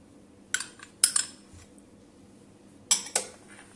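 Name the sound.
stirring yogurt and cooking oil mixture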